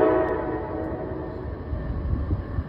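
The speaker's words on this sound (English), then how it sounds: "So we let this train go by." A train rolls past close by, a steady low rumble of wheels and cars throughout with a brief tonal horn-like sound at the start and no talking.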